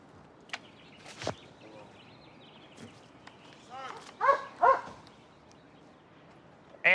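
A police K9 tracking a suspect down an alley gives a few short, sharp barks at moderate distance, spaced irregularly across several seconds, while officers talk and shout commands over it.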